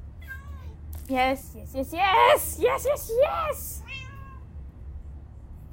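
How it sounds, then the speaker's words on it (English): Several cats meow in the game Minecraft: Story Mode, a series of short rising and falling cries bunched between about one and four seconds, close and clear, with a person talking over them. "Many cats, so many cats."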